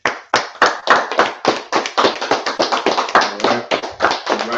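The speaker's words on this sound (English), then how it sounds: "Let's clap it up." An audience claps at a talk about NFL football, the Cowboys and the Chiefs, in sharp, close, fairly even beats, loud and dry, with no voices over it.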